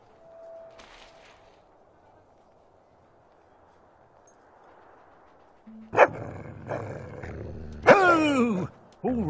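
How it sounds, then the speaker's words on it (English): An angry stray dog in the Fable II video game barks and growls in loud, harsh bursts after a few quiet seconds of game ambience. The barking is close and comes in two main outbursts near the end. "There's a nice, angry stray dog."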